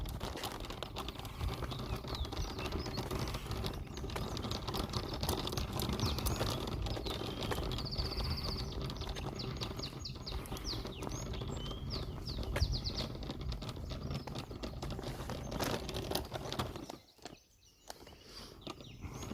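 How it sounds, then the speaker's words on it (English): Birds in the wild on Gran Canaria in the Canary Islands, including a black bird native to the islands perched in a palm, give faint scattered chirps and tweets over a continuous outdoor patter, with a short quieter dip near the end. "The sounds of the birds, you can listen all the time."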